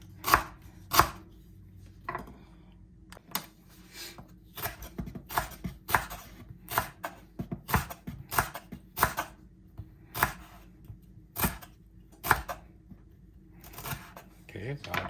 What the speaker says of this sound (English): Okay, this is lemongrass. Go ahead and chop it in small pieces.